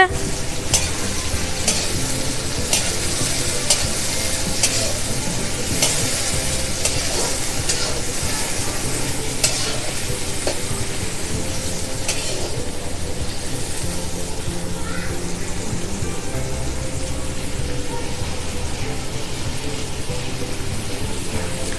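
Chopped onions fry in oil in a pan for okra sabzi, giving a steady, close sizzle with stirring scrapes throughout and no talk.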